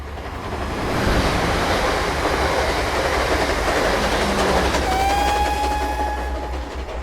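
A fast train rushes past close by, a loud sustained roar of wheels and wind with high metallic squeals sliding in toward the end before the noise fades slightly.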